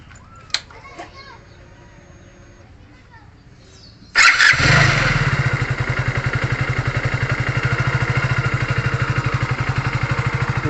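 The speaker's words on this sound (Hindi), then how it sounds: "अब मैं बाइक को स्टार्ट करूँगा।" A BS6 fuel-injected motorcycle engine cranks and catches, then settles into a loud, steady idle with a rapid rhythmic chug, after quieter voices and background noise.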